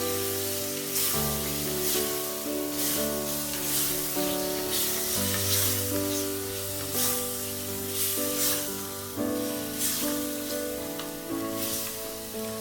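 Jungle mutton curry sizzles steadily in a pan as it is stirred, a continuous bright frying hiss running under loud tonal background music.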